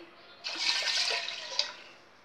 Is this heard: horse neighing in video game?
no